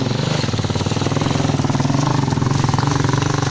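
A motorcycle rides along a muddy, rocky path, its engine giving a steady, rapid throbbing putter at close range, fairly loud and even in tone for the few seconds heard.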